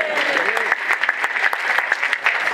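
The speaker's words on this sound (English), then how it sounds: "Come on, give him a round of applause." An audience at a carbon tax tour event in Sydney gives a round of applause, bright dense clapping with sharp individual claps standing out and a brief voice at the start.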